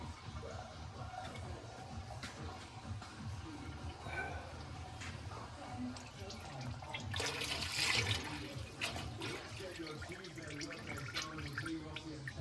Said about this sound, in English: That's just literally draining the tank into the sump.